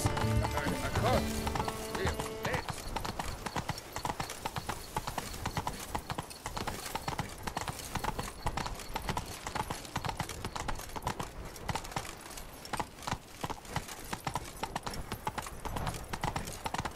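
Roach, a horse in The Witcher 3 video game, gallops with steady, rapid clip-clop hoofbeats throughout, and a whinny rises near the start; the hooves stay loud and close over a dense game soundscape.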